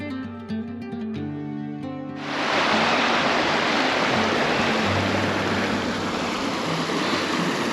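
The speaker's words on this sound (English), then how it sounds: "The creek is flowing." A creek in winter in the Canadian Rockies, heard from a bridge: a steady, loud rush of flowing water that swells in after a couple of seconds and continues unbroken.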